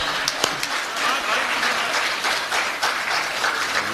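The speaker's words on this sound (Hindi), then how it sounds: "तालियां कमजोर हैं आपकी।" Audience applause fills a Hindi comedy poetry gathering, a dense steady wash of clapping from a large crowd that holds throughout without a break.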